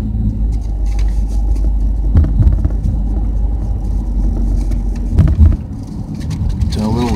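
A van driving through a city at night, its steady engine and road rumble filling the cabin, with a few louder thumps from bumps along the way and a voice speaking briefly.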